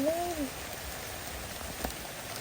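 Steady rain falls and patters on surfaces nearby in an even, continuous hiss, with a brief tonal call at the very start and no speech.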